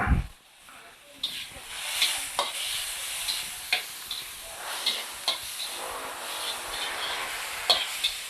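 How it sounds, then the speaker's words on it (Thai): Pork frying in a pan with a little added oil, a continuous hiss and sizzle punctuated by repeated sharp spatula stirring clacks, close and fairly loud. "ผมเพิ่มน้ำมันไปนิดนึง เพื่อจะให้หมูมันสุก"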